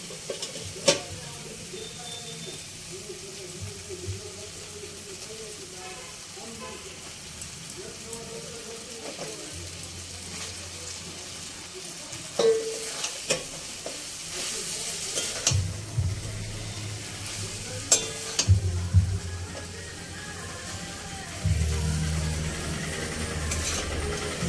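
Chinese-style noodles are stir-fried with spices in a hot pan: a steady sizzle runs throughout, and louder scraping, tossing clatters build up in the second half.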